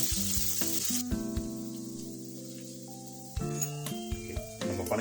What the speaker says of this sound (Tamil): பணியாரம் ஊற்றிட்டோம். ஒரு பக்கம் வெந்து வரட்டும்